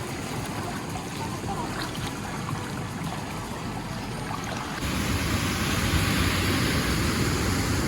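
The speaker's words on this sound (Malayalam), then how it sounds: "ഏതോ ഒരു മലൻ്റെ മുകളിൽ നിന്ന് വരുന്ന വെള്ളം നല്ല തെളിഞ്ഞ വെള്ളം" Clear spring water from the mountains flows along the Ghaidh spring path in Salalah as a steady close rushing and babbling, growing louder partway through.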